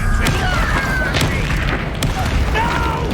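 Explosive spell blasts in the Hogwarts Legacy game, with a dense rumbling boom and several sharp cracks over a loud, continuous battle din.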